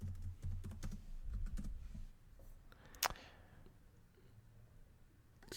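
Fast typing on a computer keyboard, a quick run of close, light clicking keystrokes followed by a single sharp key strike and then near quiet.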